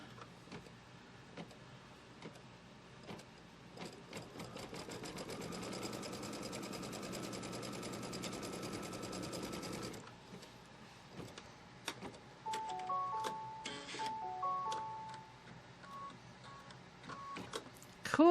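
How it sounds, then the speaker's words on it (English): An embroidery machine stitching a tack down line on a quilt block hoop, a steady rapid mechanical stitching drone for several seconds, followed by lighter clicks and whirring as it stops, close up with no voices. "it's going to stitch the tack down line from the right to the left"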